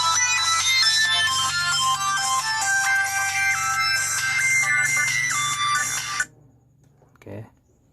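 A Sony Ericsson K700i mobile phone plays a loud, bright polyphonic ringtone melody for about six seconds, then stops, followed by quiet handling and a faint brief voice.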